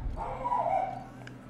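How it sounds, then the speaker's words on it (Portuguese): A pet dog giving a drawn-out, whiny bark or yelp indoors, one sustained cry followed by a faint short yip, heard at moderate loudness over low room hum. "desculpa o latido do cachorro"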